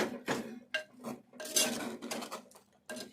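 A tomato and brinjal curry is stirred in a clay pot, making a run of irregular clinks and scrapes as the utensil knocks the pot's rim and sides, close and fairly quiet.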